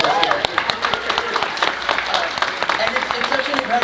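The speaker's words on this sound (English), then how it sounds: "Let's give a round of applause for them." Audience at a Halloween Horror Nights 2024 announcement event applauding scare actors, a steady patter of clapping from a crowd with voices talking over it.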